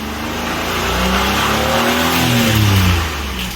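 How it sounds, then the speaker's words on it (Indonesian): A used car's engine revs hard at a dealer inspection to check the exhaust, rising and holding a loud, steady roar close by for several seconds with no talk. "Untuk knalpotnya coba diinjek gasnya"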